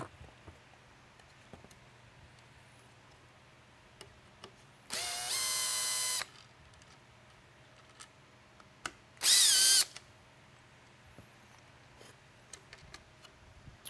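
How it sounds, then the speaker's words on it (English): A power drill backs screws out of a SoundOff Pinnacle Mini LED lightbar in two loud whirring bursts, each about a second long, separated by quiet handling noise. "The units themselves can be removed, again with a series of screws being removed."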